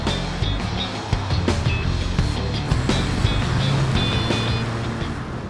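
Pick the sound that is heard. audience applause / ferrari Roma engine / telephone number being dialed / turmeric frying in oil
ferrari Roma engine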